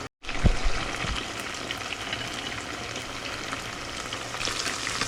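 Tofu frying in oil beneath a splatter guard, a dense, even crackling sizzle that holds steady and close after a brief clatter at the start, with no voices.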